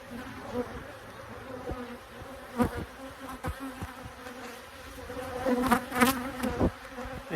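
Honeybees buzz loudly and continuously during a hive inspection, individual insects whining close by over a steady drone, with sharp knocks and clicks of handling scattered throughout.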